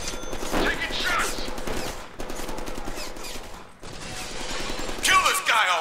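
Gunfire from the Deadpool video game on PS5, a dense, rapid fusillade of shots that runs through most of the stretch with brief gaps, loud and close, with a sharper burst near the end.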